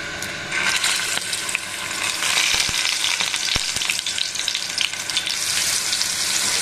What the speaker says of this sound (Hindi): हमने इसको सारे तेल में डाल दिए और इसको ढक के भूनेंगे।